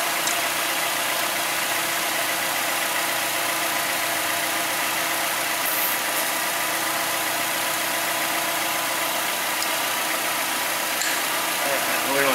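Nissan Altima engine idling after a catalytic converter replacement, a steady, even mid-range hum running continuously and fairly close, with no talk over it.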